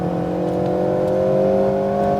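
An Alpine A110R accelerates on a track, its engine note rising steadily in a loud, sustained drone heard from inside the car with no one speaking.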